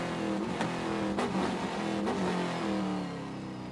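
Trans Am Series race cars roar around Sonoma during the Western Championship race, a loud sustained engine drone with rising revs and faint tire squeal, no talking.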